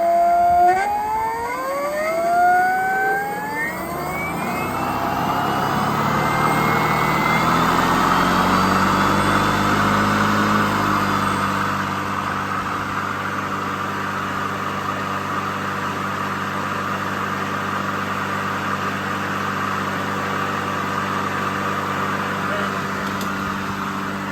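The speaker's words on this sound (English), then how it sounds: "And you hear a motor starting to spin up." An electric motor from a Ryobi lawnmower, driven by an e-bike controller, winds up with rising whining tones that climb in pitch, then holds a steady humming drone, with a voice occasionally speaking over it.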